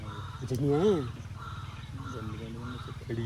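Harsh bird calls ring out loudly, one rising-and-falling cry standing out early, with voices talking throughout.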